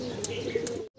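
Pigeons on a farm, including a pair of the fancy breed called Pike Beauty, coo in soft low murmurs with a couple of brief higher chirps, close by, before the sound cuts off abruptly.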